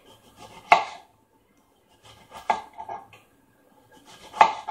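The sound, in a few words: knife cutting a large squash into slices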